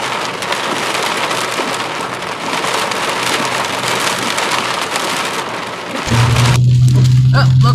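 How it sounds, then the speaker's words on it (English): Severe warm thunderstorm near Marionville and Billings, Missouri, with intense damaging wind driving heavy rain, a loud roaring wash of rain and gusts; a low steady hum joins in near the end. "Big time winds coming in here on a severe warm thunderstorm."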